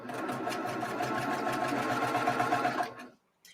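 A sewing machine stitches a star flower quilt block in one steady, close run of rapid needle strokes lasting about three seconds before stopping abruptly into quiet.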